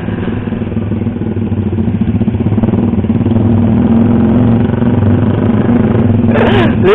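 A Honda CBR250R motorcycle engine runs loud and close on a street, a steady throbbing rumble that builds slightly, with a brief higher whine rising near the end.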